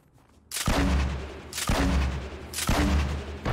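Bursts of gunfire from a newly acquired gun in a multiplayer shooter video game, coming in three loud repeated volleys about a second apart, each with a sharp onset and a sustained rumbling tail.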